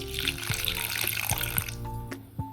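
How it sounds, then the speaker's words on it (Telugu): Water pours steadily into a vessel for about two seconds, then stops, followed by a few faint clinks and drips nearby. "దీంట్లోనే కొంచెం వాటర్ యాడ్ చేసుకుందాం."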